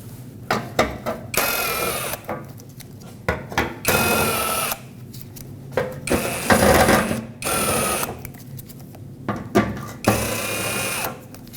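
Bolts with 10mm heads being removed from the front bumper panel of a Nissan Frontier pickup, heard as repeated bursts of a tool whirring and ratcheting between short pauses, close and fairly loud.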